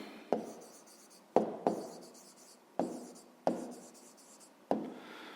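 A pen scratches on paper while a math answer is written down, in six separate strokes, each starting with a sharp tap and trailing off into a soft scratch, close by and quiet with no voices.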